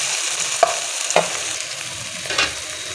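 Chopped tomatoes and masala frying in a pan for pizza sauce over a medium flame, giving a steady soft sizzle with a few sharp stirring clinks and scrapes, close and alone with no talking.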